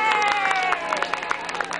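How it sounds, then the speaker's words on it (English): An outdoor crowd at a fall festival applauds and cheers for a band with scattered clapping and voices, close by and fairly loud, while children shout. "let's give a big round of applause to them so they'll come back next year"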